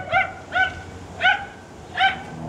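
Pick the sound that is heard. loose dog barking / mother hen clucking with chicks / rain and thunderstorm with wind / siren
loose dog barking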